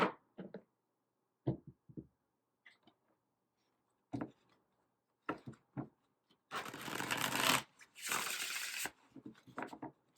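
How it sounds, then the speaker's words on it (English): A deck of tarot cards is handled and shuffled up close, with scattered soft taps and slides followed by two longer riffling bursts of card shuffling, all fairly quiet with no talking. "Everything is usually already pre-shuffled, but I go ahead and shuffle again."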